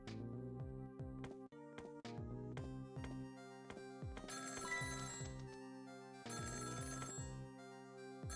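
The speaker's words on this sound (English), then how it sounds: "So the phone rings." In Ghost Trick: Phantom Detective, a telephone rings, heard as a steady repeating electronic ring over game music, with bright tonal bursts recurring at a regular rhythm.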